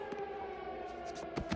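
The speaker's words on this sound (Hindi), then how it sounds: "अब एयर रेड सायरन को बंद कर दो" An animated air raid siren wails steadily in a cartoon town, a sustained tonal drone with faint background noises breaking through briefly.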